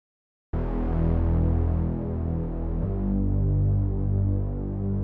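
A smooth Moog-style synth bass from Logic Pro's Alchemy plays a sustained, low, humming note through a low-pass filter with the cutoff turned down, then drops to a deeper held note partway through, steady and alone.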